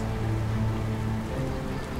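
Heavy rain pours down steadily during the Ironman Langkawi 2022 race, a dense continuous hiss of drops hitting surfaces with a low background hum and no voices.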